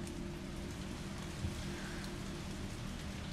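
Steady static hiss and falling rain fill a scene in the video game Resident Evil 3, a constant even wash of noise at moderate level with no voices.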